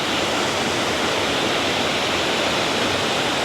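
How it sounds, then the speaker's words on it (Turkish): A small waterfall fed by a stream swollen with muddy rainwater gives a steady, dense rush of falling water, loud and close, unbroken throughout with no voices. "şelalecik"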